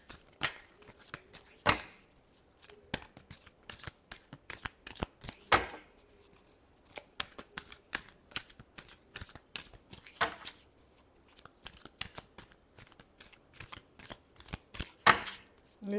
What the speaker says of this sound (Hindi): Last shuffle.